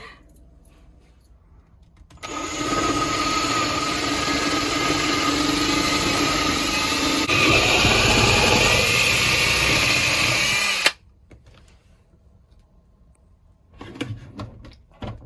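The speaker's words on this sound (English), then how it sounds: "drill a hole right there, and I think what I'm going to do is try to just drill through it all at once" Power drill boring a hole through a van roof fan mount for a MaxxAir fan repair, one steady loud whining run of about nine seconds that stops abruptly, with quiet handling noise before and after.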